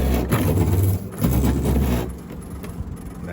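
Windshield wiper motor on a Chevelle running at high speed, a loud close mechanical whir with rhythmic surges as the wiper sweeps, heard alone.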